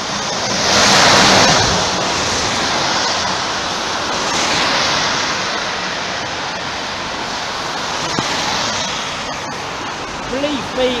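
Heavy rain pouring down at night on a road beside a coach, a loud continuous roaring wash with gusty swells of wind noise on the microphone and a voice briefly speaking.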